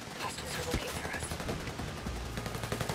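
Bursts of gunfire in Ghost Recon, a dense rattle of shots running throughout over a busy battle background, fairly close and steady.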